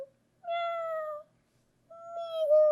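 A person imitates a cat with two drawn-out, clear meows separated by a short pause, close and alone with no other sound.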